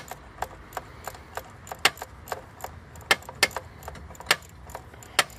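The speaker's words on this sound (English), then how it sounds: "sometimes just pull down on it a little bit and it just applies a little bit of pressure so you can unwind these bolts here" Bolts are unwound on the EGR valve of a Ford Transit 350 Mk 6, giving sharp, irregular metallic clicks and ticks that sound close against a quiet background.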